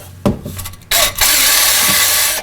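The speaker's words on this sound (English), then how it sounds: "Now I'll drill a hole for a self-tapping bolt right here on the frame for the ground." A brief clatter, then a power drill whirs steadily and loudly up close, boring a hole through a vehicle's painted metal frame for a self-tapping bolt.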